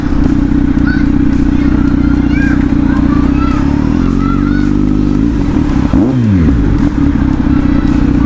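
A Kawasaki Z900 motorcycle engine revs loudly and close, with a strong low drone whose pitch climbs and then dips sharply before settling; voices are heard briefly under the engine.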